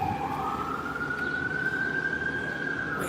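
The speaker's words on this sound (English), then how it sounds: "Wait for these sirens to pass." Emergency vehicle siren wailing steadily as it passes nearby, a continuous rising tone over street traffic rumble, with no one speaking.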